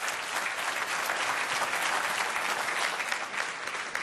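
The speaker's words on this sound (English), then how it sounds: "would you please give a warm round of applause to the New Zealand Silver Fern captain" Audience applause for the New Zealand Silver Ferns netball captain at the FIFA U-20 World Cup 2015 official draw ceremony, a dense, steady wash of many hands clapping throughout, with no speech over it.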